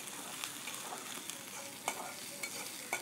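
Onions, slit green chilies and curry leaves fry in a pan while being stirred, making a faint, even sizzle punctuated by occasional soft clicks of the spoon against the metal.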